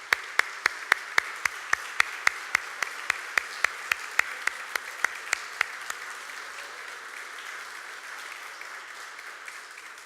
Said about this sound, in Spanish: Vamos a darle un fuerte aplauso a las 4.